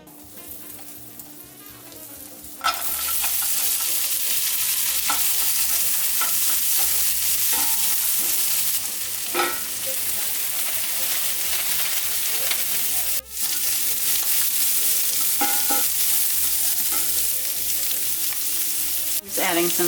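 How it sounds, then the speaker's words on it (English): Vegetables and precooked ground beef fry in melted butter in a cast iron skillet, a loud, steady sizzle running throughout with occasional scraping stirs and no talking. "I'm going to preheat it and melt some butter on it and heat up my vegetables"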